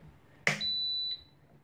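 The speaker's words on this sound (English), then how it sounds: "Nice beep." A halogen table top cooker gives a single clear electronic beep when switched on, preceded by a sharp click, in an otherwise quiet room.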